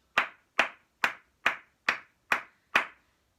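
Seven sharp hand claps in an even, steady rhythm during a primary-school music lesson, each clap crisp and close with brief silence between them.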